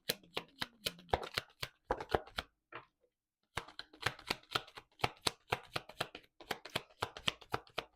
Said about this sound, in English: So let's pull 3 cards for the collective, please, to support their healing.